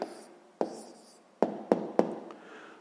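Pen writing an answer on paper while solving a sixth-grade math exercise: soft scratching strokes with a few distinct taps and short scribbles, close and quiet, with no talking.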